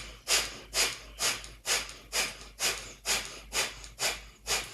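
A person doing a kundalini breathing exercise takes about eleven forceful, rhythmic breaths, close and clear, with even pacing and no talking.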